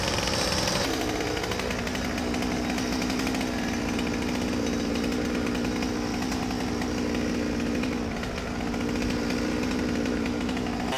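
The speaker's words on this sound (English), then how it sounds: "now he's going to proceed to do some pruning" A chainsaw prunes the lower branches of a linden tree during commercial tree service work, roaring loud and continuous at close range with a harsh, gritty engine rasp and small shifts in pitch as it cuts.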